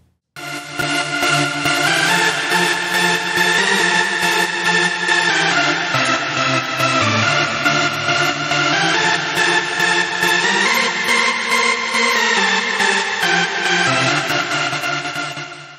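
Trance lead synth run through effects, playing a continuous bright, dense melodic line with sustained layered tones, steady and loud throughout with no speech.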